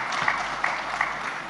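An audience at a business summit claps in steady, dense applause for the whole short stretch, moderately loud and without voices.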